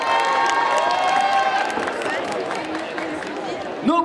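An audience at a cosplay parade in Saint-Étienne cheers and applauds in a large hall, and a broad wash of crowd noise and clapping fades slightly over a few seconds as a voice rises near the end.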